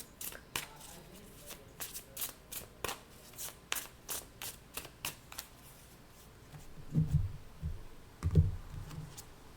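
A deck of tarot cards shuffled by hand, giving a quick run of crisp riffling snaps in an even rhythm, then a few softer, duller handling thumps near the end, close and with no talk.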